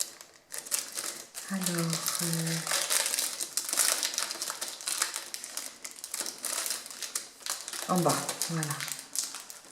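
A prize parcel being opened close by, its wrapping crinkling and crackling steadily throughout while someone speaks briefly over it.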